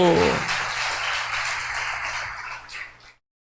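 A church congregation bursts into applause, a dense wash of clapping that starts right after a brief voice and holds steady for about three seconds before cutting off abruptly.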